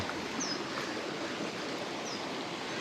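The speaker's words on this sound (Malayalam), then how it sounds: "സംഗതി ഈ റിവർ തന്നെയാണ് താഴെ പോയിട്ട് ഒഴുകുന്നത്" A river flows somewhere below, a steady broadband rush of water heard from a distance, constant and unbroken with faint high bird chirps over it.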